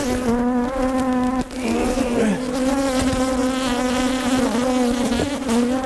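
A large, healthy honey bee colony buzzes steadily and loudly up close, a dense continuous drone with shifting layered tones and brief dips, with no voices over it.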